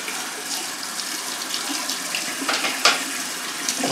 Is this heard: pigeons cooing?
no